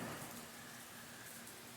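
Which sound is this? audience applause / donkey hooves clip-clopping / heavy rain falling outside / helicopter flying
heavy rain falling outside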